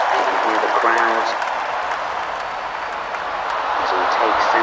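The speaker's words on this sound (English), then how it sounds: "You can hear the crowds" A large crowd cheering and applauding before a major event, a steady wash of clapping and shouts that dips slightly in the middle, with a voice speaking over it.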